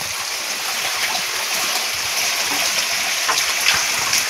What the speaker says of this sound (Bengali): বাড়ির ভিতর দিয়ে জল বেরিয়ে বয়ে চলেছে, জোর গতিতে জল বয়ে চলেছে